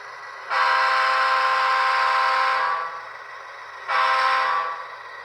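Two blasts of an air horn play through an iPhone 7 speaker as sound effects for an HO scale Proto 2000 BL2 diesel locomotive model: a long, loud, steady note of about two seconds, then a shorter repeat after a brief gap.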